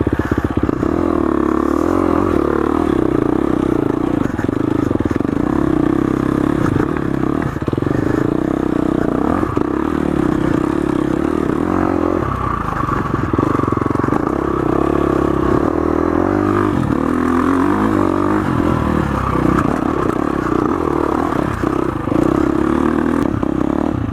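A 2019 KTM 350 XCF dirt bike runs loud and close for the whole stretch, its engine steadily revving up through the gears with rattling chassis clatter and scraping noise layered over it.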